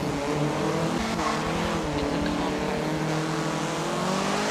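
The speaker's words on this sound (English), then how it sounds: "this thing sounds hideous. It sounds like my mom's vacuum cleaner" Race car engine in the Forza Motorsport 7 racing game, a loud, continuous droning whine that holds steady for the whole stretch, with hints of tire squeal mixed in.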